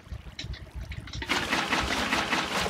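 Water gurgles and rushes steadily in a Lego video game, rising suddenly from a quieter trickle into a continuous refilling sound that carries on to the end.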